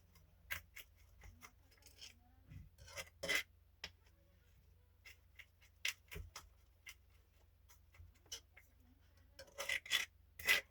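Garlic sprinkled with salt being chopped on a cutting board: sharp, close knife taps come in irregular clusters with quiet gaps between them, and no voice is heard.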